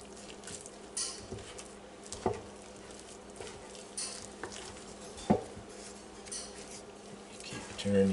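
Coconut bun dough being stirred and turned in a bowl with coconut milk, soft irregular patter and scraping with a few sharper knocks, close and fairly quiet.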